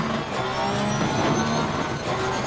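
Race car in the Assetto Corsa Competizione video game accelerating hard up a hill, engine roaring loud and steady throughout a short burst, with no talking.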